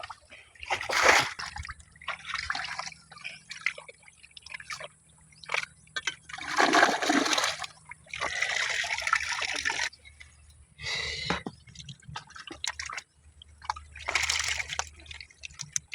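Water is bailed by bucket from a small dug hole while catching catfish, irregular splashes and sloshing pours coming in bursts with quiet gaps, close by, over a low outdoor background.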